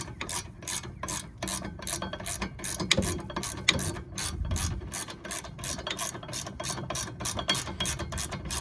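Rapid ratchet clicking from a hand tool snugging the rear brake bolts on a 2019 Ford Fusion Hybrid, steady bursts of close, loud pawl clicks running throughout with no talking.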